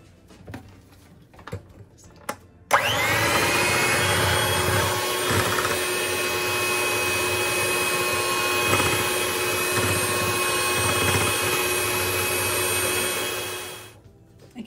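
An electric hand mixer beats cream cheese muffin batter, a steady whirring motor hum that starts abruptly, holds an even, fairly loud level for about eleven seconds, then winds down and stops.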